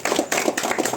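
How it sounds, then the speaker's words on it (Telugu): A village audience claps at a senior prize announcement. The clapping is close and rhythmic, with a few distinct bursts of hands across one second. "క్లాప్స్ కొట్టాలి."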